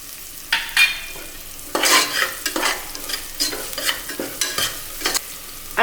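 Halved green chillies and onions sautéing over a medium flame in a pan, loud close sizzling broken by repeated bursts of spatula scraping and stirring, with no talking.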